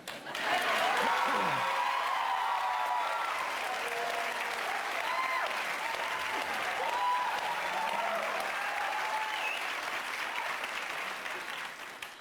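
A talk-show studio audience applauds loudly and steadily for about twelve seconds, a dense, continuous wash of clapping with faint voices mixed in, tapering slightly at the end.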